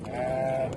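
A single sheep bleats at an outdoor livestock market, one sustained nasal call close by over a low murmur of background noise.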